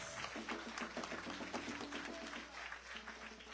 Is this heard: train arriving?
no